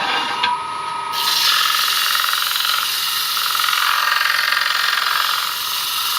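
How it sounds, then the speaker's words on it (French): A wooden bowl spins on a wood lathe while fine sandpaper is pressed against it, giving a steady bright hiss and whir that swells after the first second and holds evenly, with no talking. "Je vais poncer légèrement une petite toile."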